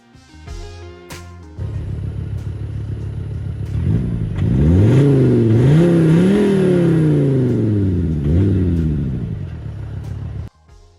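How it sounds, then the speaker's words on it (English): Skoda Kodiaq vRS engine in Sport mode revs up in several rising and falling surges, loud and close, with a steady idle before and after. "a pretty impressive noise when you select Sport"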